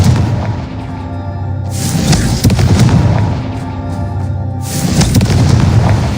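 A Confringo explosive spell blasts in Hogwarts Legacy, two loud deep booming explosions with rumbling tails, each swelling and then fading, with no speech over them.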